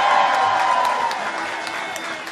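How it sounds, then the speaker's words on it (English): A crowd at a Maryland governor's election victory speech applauds and cheers loudly, with the clapping gradually easing off while a voice lingers faintly over it. "How about a big round of applause for all of them as well?"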